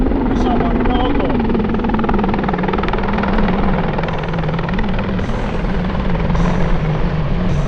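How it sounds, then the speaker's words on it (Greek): Apache attack helicopter hovering high at an air show, its rotor beat and turbine whine continuous and loud, with a public-address announcer speaking over it. "το Apache έρχεται μπροστά σας σε υψηλή αιώρηση, προσομοιώνοντας την κάλυψή του πίσω από την όγκο"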